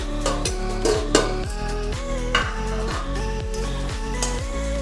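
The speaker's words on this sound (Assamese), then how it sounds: "এতিয়া অকণমান লুটি বাগৰ কৰি দিওঁ চামুচে" A spoon stirring chicken in a pot, scraping and clinking in a steady repeated rhythm over a continuous low sizzle, close and fairly loud.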